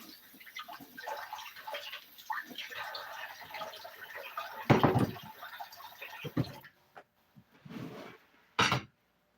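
Something being rinsed under running tap water in a home kitchen while making turkey tamales, with a stream of water splashing in bursts, a louder gush midway and a final short splash, with someone speaking over it.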